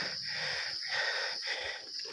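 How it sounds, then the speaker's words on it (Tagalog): Heavy, rhythmic panting from one person catching their breath after climbing a steep path, several rasping breaths close to the microphone with no talking. "hinihingal pa rin ako"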